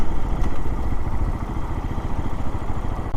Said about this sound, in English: Got a Harley pulled up behind us.